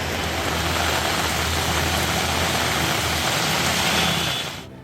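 Heavy rain pouring down during floods in Gujarat, a dense, loud, continuous hiss of falling water with no break, fading out sharply at the very end.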